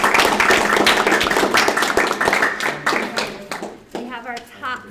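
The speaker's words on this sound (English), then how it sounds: "let's give him a round of applause" Students and parents clap at a middle school spelling bee after a speller is eliminated, with moderately loud applause that fades within a few seconds as people begin talking.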